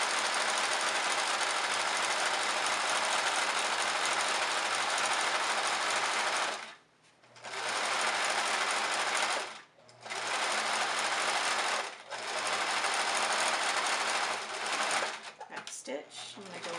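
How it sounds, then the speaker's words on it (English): A sewing machine runs loud and close, stitching along the bottom edge of a fabric clutch to join two bottom pieces, in long steady runs broken by a few brief stops. "You just sew along the bottom to seal the two bottom pieces together."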